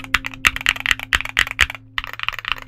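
Typing on a Luminkey65 mechanical keyboard with Gateron Sylva switches and a PC or aluminum plate: rapid, crisp clacky keystrokes, close and loud, in an uneven run with a brief pause, no voices.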